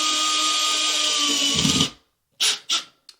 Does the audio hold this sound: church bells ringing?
no